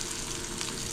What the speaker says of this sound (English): You can hear it frying in there.